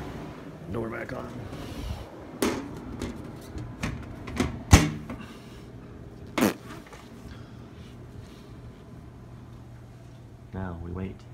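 Metal access panel of a two-stage AC unit being refitted, several sharp clanks and knocks scattered across the stretch, with a steady unit hum beneath and brief speech near the end.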